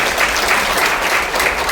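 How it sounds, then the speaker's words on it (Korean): Audience applause fills a book launch for a politician's memoir at the National Assembly Museum, a steady, dense clapping from a large seated crowd that holds evenly throughout, loud and close with no talk over it. "감사히 큰 박수 부탁드립니다."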